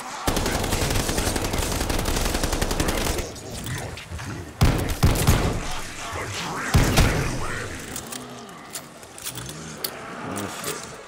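Rapid bursts of machine pistol fire crackle in a zombie video game, dense stuttering volleys in the opening seconds, then sharper isolated shots and engine-like rumbles, loud and close with pauses between bursts.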